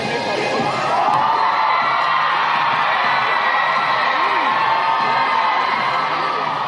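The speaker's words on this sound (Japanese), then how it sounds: "この大歓声" A packed arena crowd roars and cheers at a figure skating event featuring Yuzuru Hanyu, a loud, continuous wall of shouting and whooping that swells after the first second and stays strong.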